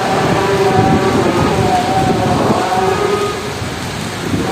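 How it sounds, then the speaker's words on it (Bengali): Loud, dense downpour in Dhaka city roars steadily throughout, with a faint wavering tone in the background and no voices. "দেখতে পাচ্ছেন প্রচণ্ড বৃষ্টি হচ্ছে ঢাকা শহরে।"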